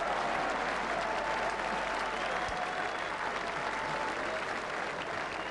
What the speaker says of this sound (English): Crowd absolutely delirious here.